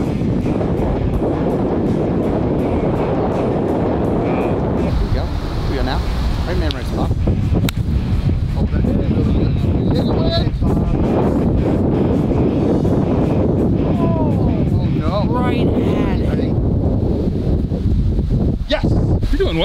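Gusty wind buffets the microphone on an open golf course, a loud rumbling roar that surges and eases throughout as golfers talk over it.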